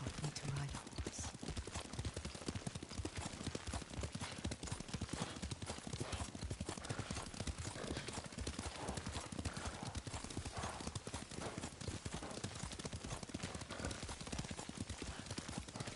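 Horse hooves galloping in a video game set among samurai and Mongols, a fast continuous clip-clop rhythm running the whole time beneath spoken dialogue and background score.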